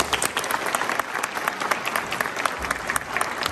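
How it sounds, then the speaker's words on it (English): An audience applauds scouts at a Scout bridge ceremony: dense, steady clapping from many hands that fills the room, close and loud, without a break. "Give these trailblazers another round of applause"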